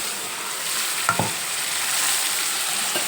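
Potato pieces stirred and fried in a pan for potato brinjal curry, a continuous close hissing sizzle with a couple of brief scraping knocks from the spoon, no voices.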